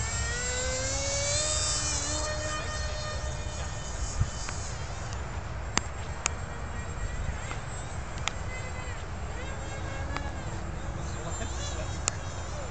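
A small remote-controlled aircraft buzzes steadily with a high, insect-like whine that shifts in pitch as it flies, with occasional sharp clicks.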